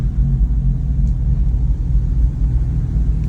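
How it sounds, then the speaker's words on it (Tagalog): The radiator fan runs in the engine bay of a small-body Toyota Corolla with a 2E engine, a loud, steady, close rumbling whir that holds constant with no voices. "Gumagana yung fan."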